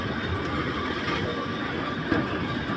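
Lisbon's tram 28 runs on its rails with a steady, close rumble throughout and one brief clack near the end.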